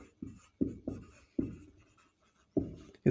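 A pen writes by hand on paper while exam notes are taken, making several distinct scratchy strokes in a quiet room, with short pauses between them.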